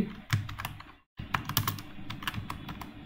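Typing on a computer keyboard: rapid, uneven key clicks close by, breaking off for a moment of silence before resuming in a steady flurry, with no voices.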